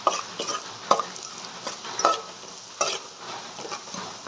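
Dry ginger powder and other spice powders being stirred into a mango and jackfruit pickle, with intermittent scraping spoon strokes and soft clinks over a faint background hiss, fairly quiet and close.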